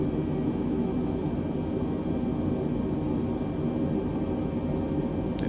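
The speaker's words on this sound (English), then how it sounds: "The aircraft starts descent as we make our way down to Leeds." Airliner jet engines in Microsoft Flight Simulator 2020 on descent toward Leeds Bradford, a steady broadband cabin roar with low rumble holding constant throughout, no voices.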